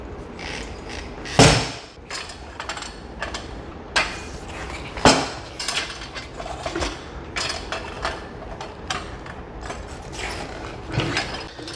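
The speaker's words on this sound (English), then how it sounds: "it's fully debeaded on this side, so we're just gonna go ahead and move it to the other side and then debead the other side as well" A tire is being debeaded on a Harbor Freight tire change stand, with metallic clanks, ratcheting clicks and a few sharp, loud bangs spread irregularly through the clip. The sounds are close and nobody talks.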